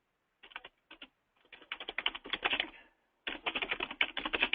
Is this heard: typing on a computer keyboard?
yes